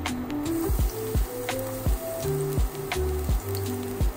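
Garlic frying in hot oil for beef with broccoli: a faint continuous sizzle and hiss close by, with short tonal blips scattered through it.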